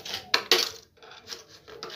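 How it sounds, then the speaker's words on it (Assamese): A spoon clinks and scrapes against a bowl while mixing salt, a few sharp metallic taps and scrapes in a loose, uneven rhythm, close and clear, with no talk. "এতিয়া আমি ইয়াত নিমখ মিক্স কৰিম।"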